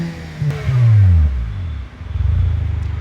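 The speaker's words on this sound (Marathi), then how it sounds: "सगळ्यात पहिले तर मेन हायलाईट हिला आहे व्हॅल्वोट्रॉनिक एक्झॉस्ट" A Hyundai i20 1.2 litre with a Valvetronic exhaust revs hard, its pitch sweeping down after a sharp blip, then settling into a loud, steady, throaty burble close by.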